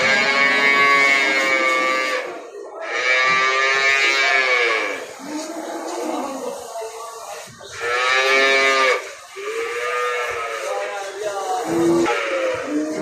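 Cows at a busy sheep, goat and cattle bazaar low again and again in long, loud, drawn-out moos. Voices murmur underneath the calls.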